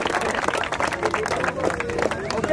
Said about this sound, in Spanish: Les un fuerte aplauso